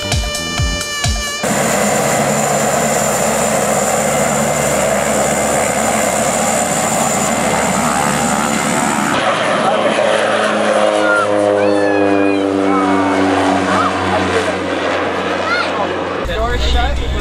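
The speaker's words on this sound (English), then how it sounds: "I found you an airplane to jump out of on your birthday." Steady propeller airplane engine drone inside the cabin before a skydive, loud and continuous, with people talking over it and the engine tone shifting partway through.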